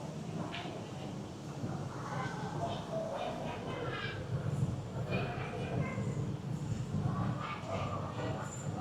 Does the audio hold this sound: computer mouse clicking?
no